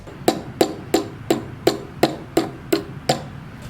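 Wooden toy car wheels are tapped into place by hand in a woodworking shop, giving nine sharp, evenly spaced knocks about a third of a second apart. Each strike is close and crisp, with a brief ringing decay and no talk.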